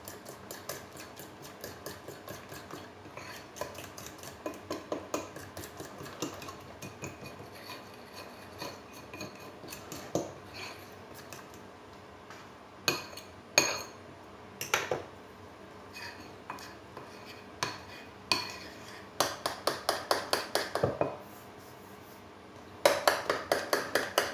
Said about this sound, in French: Je vais fouetter jusqu'à ce qu'il n'y ait plus de grumeaux.